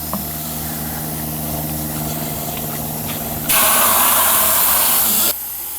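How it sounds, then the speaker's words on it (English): Close and loud, a water spray rinses out a pool salt cell in a steady, hissing burst of nearly two seconds, set over an ongoing mechanical hum with a low tonal drone. "Remove the union device and thoroughly rinse the cell out."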